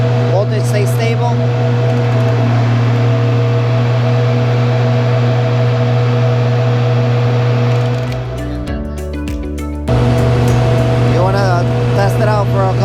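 Hobart 90CU24 ground power unit engine running steadily under load test with a loud, constant droning hum; the tone dips and wavers for about a second and a half near the end before settling back to its even pitch.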